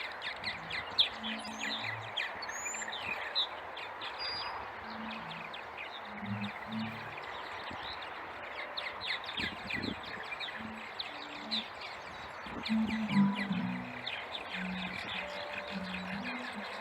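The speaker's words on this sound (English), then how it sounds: "There is a specific area for purple martins, the purple martin bird." A flock of purple martins chirps and chatters at a distance in a state park, a steady busy chorus of small calls over low outdoor noise.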